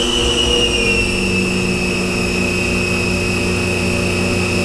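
A DC spindle motor on a D&M4 CNC mill spins at speed, giving a loud, steady whine with strong high tonal lines over a constant low hum, unbroken for the whole stretch, no voices.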